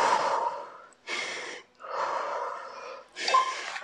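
Forceful breaths during a rest break in a home HIIT workout, four long breathy exhalations separated by short silences, close and fairly loud.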